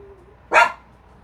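A single short dog bark, fairly close and clear, stands alone against a quiet room background with no talk.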